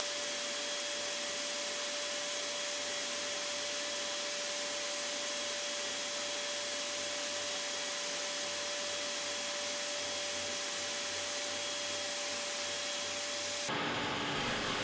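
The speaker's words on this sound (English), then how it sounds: "I'll have to say this oscillating sander did do a really nice job, but just not quite enough." An oscillating sander works a wooden rolling pin, giving a steady, loud, buzzing hum with a constant tone that stops abruptly near the end.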